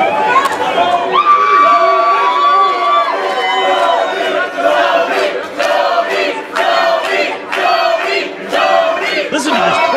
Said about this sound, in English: Listen to this crowd. Looks like they're excited for their new champ.